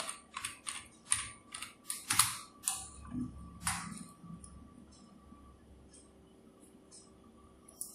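Keystrokes on a computer keyboard while entering a title in After Effects, a quick run of separate clicks in short bursts at first, then thinning out into quieter scattered taps against low room hum.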